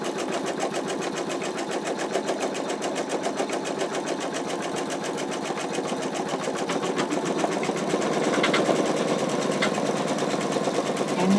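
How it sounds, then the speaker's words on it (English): Embroidery machine sewing the outer placement stitch on an in-the-hoop wallet, a fast steady needle chatter running continuously and close, growing slightly louder near the end. "now it is stitching the outer placement stitch here"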